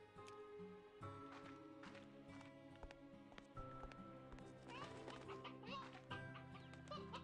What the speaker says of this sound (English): Oh, another rooster!